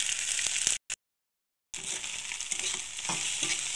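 Eggs being stirred and fried in a pan, with a steady close sizzle and scraping stirring sounds, cut by a brief silent gap before the frying resumes.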